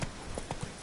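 A horse's hooves clip-clop at a steady trot in The Witcher 3, four or five distinct hoof strikes landing close and fairly quiet against a faint background bed.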